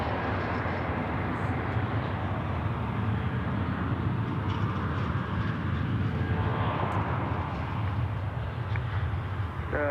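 A jet airplane rumbles steadily at Dallas Fort Worth airport, a loud continuous broadband roar that holds throughout with no breaks, heard from an outdoor spotting position.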